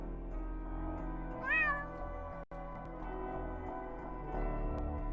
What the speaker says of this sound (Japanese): 猫の鳴き声だ。